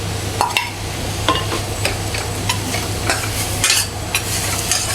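Mashed boiled potatoes are stirred into pav bhaji frying in a pan, with a constant close sizzle under repeated scraping and tapping strokes of a spoon.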